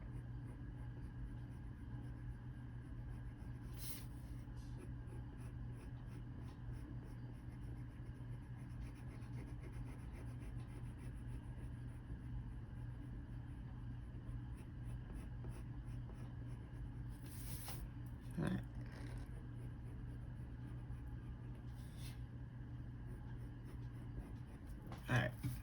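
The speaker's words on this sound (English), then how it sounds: "Alright, so now we're going to start gently coloring it in." Pencil or marker gently coloring in a drawing on paper, a steady soft scratching that runs continuously at close range over a low background hum, with a few brief louder strokes.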